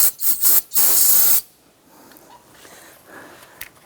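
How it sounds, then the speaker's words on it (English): Three short aerosol spray bursts followed by one longer continuous hiss, loud and close, then near silence, sprayed while replacing a power steering pressure line on a 2005–2007 Ford Five Hundred. "I'm going to go ahead and give this another spray."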